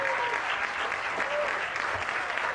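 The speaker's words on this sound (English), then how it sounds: "A big round of applause." Audience at a charity golf classic applauds steadily, a dense wash of clapping hands sustained throughout with a faint voice or two mixed in.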